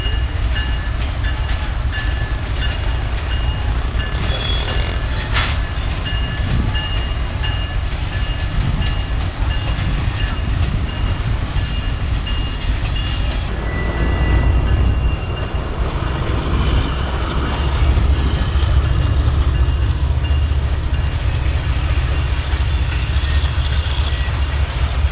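A train rolls through a diamond crossing on Pakistan's ML1 main line, a long steady rumble of wagons with rhythmic clicking wheels and a brief distant horn, heard alone without voices.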